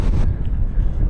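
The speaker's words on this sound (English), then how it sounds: "The wind is doing my head in." Strong wind buffeting the microphone outdoors near a caravanserai in Cappadocia, a dense low rumble filling the whole brief moment without talk.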